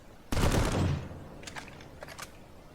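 A gun in the video game Planetside fires a short, loud rapid burst that quickly fades, followed by a few faint clicks.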